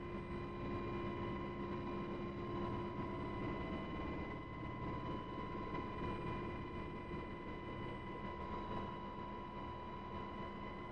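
A UH-60L helicopter from the DCS flight simulator game drones steadily, with a continuous engine and rotor hum marked by strong tonal whines, even and unbroken throughout.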